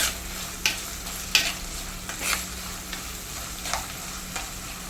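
Green chillies fry in a pan for a Kerala-style fish curry, a steady sizzle broken by several sharp scraping stirs of a spoon against the pan, no talking.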